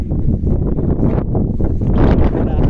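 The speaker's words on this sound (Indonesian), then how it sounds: "Anginnya kencang bro." Strong wind buffets the microphone on a 920 m mountain peak, a loud, continuous low roar with gusting surges throughout, swelling harder near the end.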